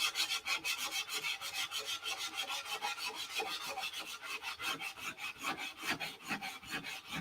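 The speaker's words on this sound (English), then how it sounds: "Let the sanding begin." Sanding the nose of a P-47 model aircraft, rapid rhythmic back-and-forth rasping strokes, close and steady, with no talking.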